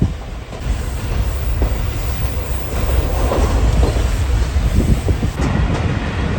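Loud, steady rumble of an overnight passenger train running on rails in Pakistan, with rhythmic clickety-clack of wheels over track joints throughout.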